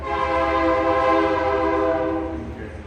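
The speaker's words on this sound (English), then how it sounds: "Oh, there's another train going by." A loud train rumbles past with a sustained, steady horn blaring throughout, fading slightly toward the end.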